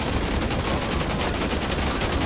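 Automatic gunfire rattles steadily from a Call of Duty: Modern Warfare 2 firefight set in Washington, D.C., a dense continuous burst of shots filling the whole stretch with no pause.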